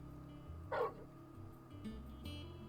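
A dog in Final Fantasy XVI gives a single short yip, quiet under a low ambient game backdrop, followed by a couple of softer whimpering sounds.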